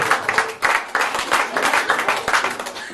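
Audience applause and clapping at a comedy stage hypnosis show, a steady dense patter of many hands filling the room at moderate loudness with small swells, no voices over it.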